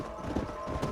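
Horse hooves clip-clop in Red Dead Redemption, a quick steady rhythm of close hoof strikes over about a second with no talk.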